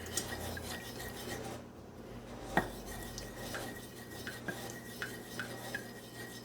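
A spoon stirs roux in a pot with a steady scraping rhythm, and occasional sharp clinks of metal against the pot rise over a low sizzle from the cooking.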